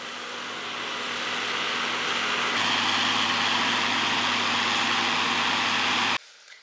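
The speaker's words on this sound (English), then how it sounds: "That's the newer tractor, that's the 4040." Steady engine drone from a newer 4040 tractor running on a farm during round baling, close and constant, building slightly in loudness before cutting off abruptly near the end.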